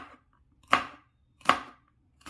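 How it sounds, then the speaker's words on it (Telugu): A knife chops okra into small pieces on a cutting board for bendi fry, landing three crisp, evenly spaced cuts about three-quarters of a second apart in a quiet kitchen. "బెండకాయ ఫ్రైకి చిన్న ముక్కలుగా కట్ చేసుకోవాలి."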